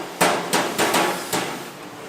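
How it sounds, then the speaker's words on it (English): Light hammer taps land on welded Willys Jeep parts to correct small deformations in a factory. There are about five sharp, close metallic knocks at an uneven rhythm, with a faint background hum. "small deformations are corrected with light taps from a hammer"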